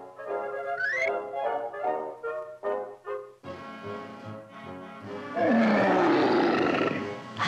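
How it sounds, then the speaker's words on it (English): A lion roars in a cartoon jungle scene, a series of deep, rumbling calls and grunts that build into a loud, sustained roar at the end, with no talk over it. "I say, sir, wasn't that a lion's roar?"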